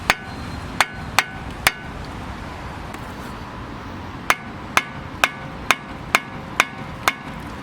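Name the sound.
hammering in a wheel bearing on a Renault Megane 2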